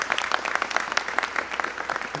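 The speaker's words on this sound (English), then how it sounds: "So, another round of applause for Mayor Duggan as well." Audience claps for Mayor Duggan at a youth summer jobs press conference, a steady round of applause from a small crowd, dense and even, with no talk over it.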